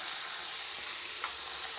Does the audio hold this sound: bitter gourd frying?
yes